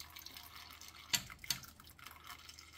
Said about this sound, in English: I'm just going to scoop it. Let it drip.